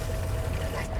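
A garden hose at an RV campsite hookup runs water in a steady, close gushing pour with no voices over it.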